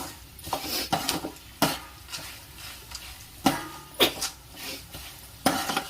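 Peanuts and lentils tossed with salt and chili powder for kaaram borugulu, roasting in a pan, give a series of sharp scraping and clinking strokes of a stirring utensil against the metal at an irregular rhythm, close and moderately loud.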